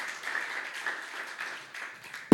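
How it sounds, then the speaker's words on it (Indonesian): A church congregation at a worship service applauds with steady, dense clapping for a couple of seconds, ending with a sharp louder thump. "Berikan tepuk tangan bagi Tuhan."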